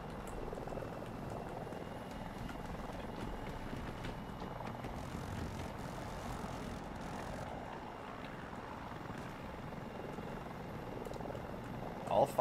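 Steady rotor and engine drone of a Super Hind attack helicopter in Battlefield 2042, a continuous close hum throughout, with players talking over it.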